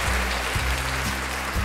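A short applause sound effect is played back through a TASCAM MiNiSTUDIO CREATOR US-42B audio interface, a dense, steady wash of clapping over a repeating low throb.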